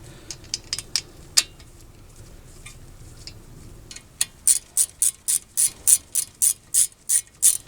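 A ratchet tightening new brake caliper bolts on a 2005 Toyota Corolla, with scattered clicks at first, then a close, steady series of about a dozen sharp ratcheting strokes.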